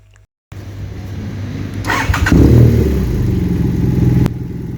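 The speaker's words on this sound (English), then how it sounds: "the first thing I really loved about this bike was the sound coming from that Aero exhaust pipe" A BMW F800GS motorcycle engine with an aftermarket exhaust idles with a throaty burble, then revs up loudly with a deep, rumbling exhaust note that holds steady before easing off.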